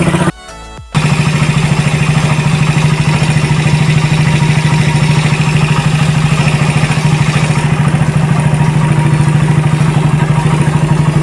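A Suzuki Raider 150 motorcycle fitted with a Keihin carburetor idles steadily and loudly up close with its engine warm, a fast even putter running unbroken after a brief dip at the start.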